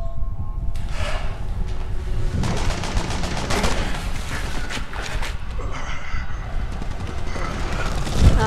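Rapid gunfire from Resident Evil 6 rattles in dense automatic bursts and repeated shots, loud and continuous over game ambience, while a player talks at times.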